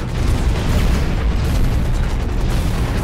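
Missile explosions in the mech shooter Hawken roar as a dense, continuous wall of booming blasts and mechanical noise, loud and close throughout.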